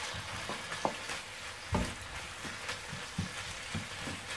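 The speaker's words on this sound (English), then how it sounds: "these Ramiro peppers are going in. Give it a stir." Ramiro peppers sizzling in a pan with onions, a steady soft frying hiss broken by irregular scrapes and clicks of stirring, fairly quiet and without talk.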